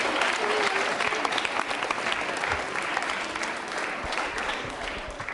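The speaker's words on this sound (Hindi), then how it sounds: "तालियां जोरों से बजाइए नमन शर्मा के लिए।" Applause from a school audience at a quiz show fills the room in a loud, dense clatter of many hands that carries on steadily throughout.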